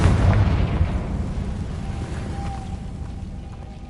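A Confringo spell explodes in Hogwarts Legacy, a loud booming blast that hits at once and then rumbles and fades over a few seconds.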